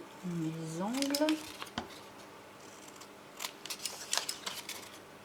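Scissors snip off the corners of a page for a steampunk leather album, with a few quiet, crisp cuts and paper rustles close by, plus a brief murmur at the start.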